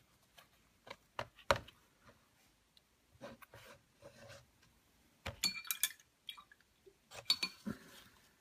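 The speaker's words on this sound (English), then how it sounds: "I'm going to close the pot" A paint pot lid on a small hobby paint pot being snapped and pressed shut, a run of faint close clicks and light plastic taps spread across a quiet tabletop.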